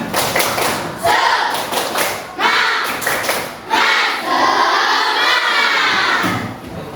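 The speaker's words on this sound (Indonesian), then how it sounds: "Tepuk semangat." Fourth-grade elementary schoolchildren in a classroom do a rhythmic spirit clap, bursts of loud group clapping and thumps arriving in patterned groups, mixed with the children's shouted chanting.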